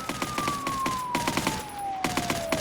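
Gun turrets in the zombie survival game Project Zomboid firing in rapid repeated bursts, sharp shots in clusters with short pauses, over a sustained falling siren-like tone.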